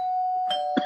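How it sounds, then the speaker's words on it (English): A doorbell rings twice in a room during a casual group conversation, each ring a short close chime standing out over a steady electronic hum. "Let go of the doorbell, Michael."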